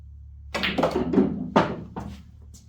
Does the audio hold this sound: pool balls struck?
yes